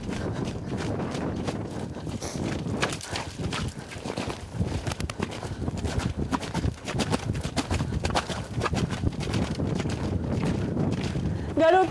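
A horse gallops outdoors in a fresh breeze, its hoofbeats running as a steady rhythmic pounding under heavy wind buffeting on the microphone throughout.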